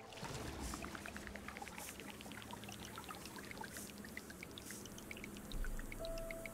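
Flowing river water in the video game Terra Nil, a steady watery trickle and pouring texture with light dripping accents running continuously throughout, no voices.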